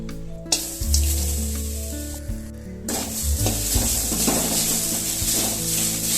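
Grated coconut dry-roasts in a kadai, a soft rustling sizzle with scraping strokes of a spatula against the pan over a low background hum.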